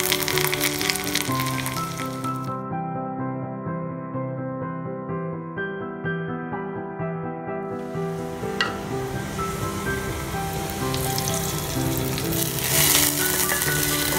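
Mustard seeds and small shallots fry for tempering in hot oil, a steady crackling sizzle held under a sustained tonal background throughout.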